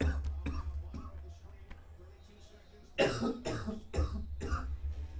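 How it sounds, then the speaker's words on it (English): A few sharp coughs burst out close by, clustered near the end after a stretch of quieter background murmur during NFL talk. "I don't know where that cough came from"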